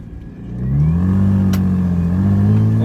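A Nissan 300ZX with a straight pipe exhaust revs up, the engine note climbing from a low rumble into a loud, sustained mid-pitched drone that holds steady, close by and alone.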